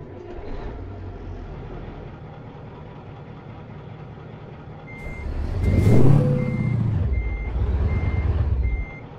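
A Mack Superliner truck in American Truck Simulator turns over on the ignition key, its low diesel rumble swelling to a loud roar midway and then settling into a heavy idle, while a steady intermittent beep repeats throughout.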